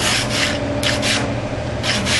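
Repeated sanding strokes with a sanding block rub back and forth across a 1971 Camaro SS car door, a steady gritty scraping in several close, even passes.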